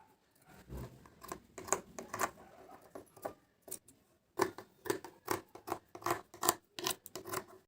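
Scissors snip through leftover lehenga blouse cloth in quick, close, crisp cuts that come in irregular bursts, with a short pause midway before faster snipping resumes. No one speaks.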